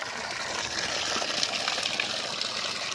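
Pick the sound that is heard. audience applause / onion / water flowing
water flowing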